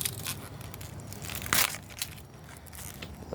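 A cabbage leaf crisply snapped off the head in a garden harvest, one sharp crunchy crack among light rustling and leaf handling.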